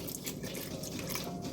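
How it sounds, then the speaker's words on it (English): Vinegar trickles and splashes steadily into a pot of wool dye, a soft continuous pouring sound with faint dripping, no voices. "I'm now going to take some plain vinegar and pour a little bit in there"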